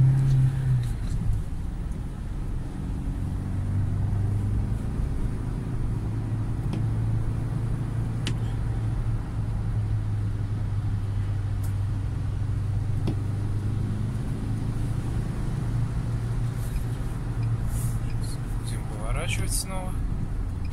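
A 2019 UAZ Patriot accelerates through city traffic, its engine drone holding steady with a rising low hum under a speaking voice inside the cabin, alongside faint road and ventilation noise.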